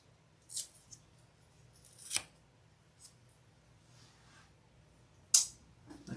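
Scissors snip away excess leather on the inside of a handmade bag, a few short, quiet cuts spaced apart with soft handling noise between them.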